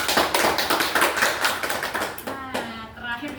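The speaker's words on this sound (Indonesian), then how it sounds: "Kita beri tepuk tangan untuk Claudia nih." Classroom applause for a student named Claudia, a dense patter of many hands clapping close by for a few seconds, then thinning out as a voice begins talking over the last claps.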